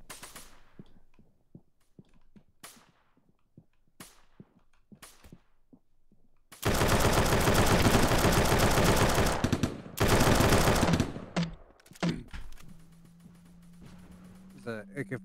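AK-47 fire in a video game: a few scattered sharp shots, then two long loud sustained automatic bursts broken by a short pause, followed by fainter shots and a droning tone, with a player talking in between.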